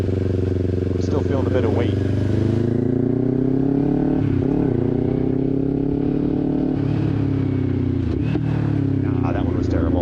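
A motorcycle engine droning steadily while riding, with a few brief dips and blips in pitch as the rider downshifts, loud and constant under the rider's talking.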